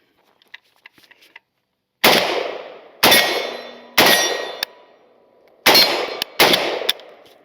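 A Polish PAC Pioneer Sporter AKM rifle, dirty after a torture test, fires five loud, sharp shots outdoors at roughly one-second intervals, each with a ringing decay, after a few faint clicks of handling.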